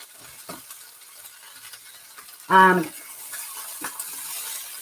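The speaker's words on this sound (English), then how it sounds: "the whole point is to stir them and fry them" Beef, black beans and cashews stir-fry in a wok with a quiet sizzle and occasional scraping stirs, while a brief voice cuts in midway.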